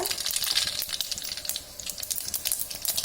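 Mustard seeds crackle and sizzle in a little hot oil for tempering, a dense, steady spattering with quick pops, close by and with no voices.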